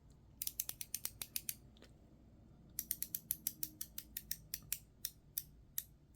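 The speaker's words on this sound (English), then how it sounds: "This is a Amazon Basics 1/4-inch drive ratchet that I've had forever." Amazon Basics 1/4-inch drive ratchet clicking close up in quick bursts of sharp, rapid ticks, a short run, a pause, then a longer run of clicks, with no talking.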